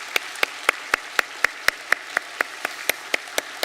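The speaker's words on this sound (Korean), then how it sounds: "우리 성탄의 그 기쁨 맞이하면서 큰 박수로 환영하겠습니다." A church congregation at a Christmas Sunday worship service claps in steady, evenly spaced unison beats, about a dozen sharp claps in a row over a soft background hiss.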